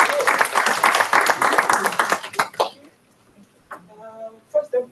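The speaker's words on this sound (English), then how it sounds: "Can you all give her a big round of applause?" A round of applause from an audience at a book or poem presentation rings out dense and lively for about two and a half seconds, then stops, followed by a cough and a brief voice.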